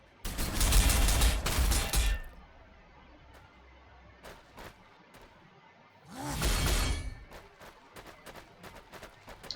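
Gunfire from Warhammer 40,000: Sanctus Reach erupts in two loud, dense bursts of rapid shots with shattering impacts, separated by a quieter stretch of scattered single cracks; no talking.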